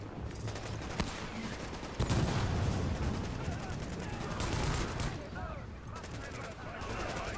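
Rapid bursts of machine gun fire in Tom Clancy's The Division, repeated volleys with short pauses, while voices talk over the shooting.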